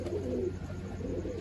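Pigeons coo softly nearby in a brief burst of low, rounded throaty calls, heard alone and fairly faint.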